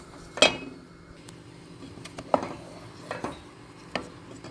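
A metal spoon clinking against a cooking pot as sugar is added to kheer, a few sharp, scattered clinks and taps that are close and fairly quiet, with soft stirring sounds between them.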